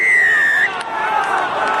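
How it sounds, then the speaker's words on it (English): Rugby crowd at a Scarlets v Munster match roars in appeal for a penalty, a loud sustained wash of shouting and whistling from the stands, with a shrill whistle tone at the start. "Crowd calling for the penalty for O'Leary on the wrong side"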